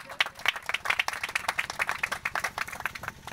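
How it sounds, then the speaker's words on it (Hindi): An audience at a Baba Saheb Ambedkar Jayanti gathering in Saradih, Chandauli, bursts into steady, sustained applause, many hands clapping in a dense rhythmic patter at moderate distance with no voices over it. "जोरदार ताली हो जाए"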